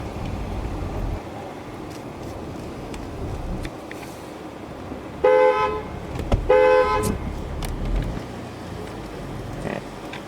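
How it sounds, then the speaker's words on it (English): Two loud car horn blasts sound a second apart while driving under a bridge in Avon, Indiana, over the hum of road traffic, each honk lasting under a second. "part of the tradition here is to honk your horn when you go under the bridge"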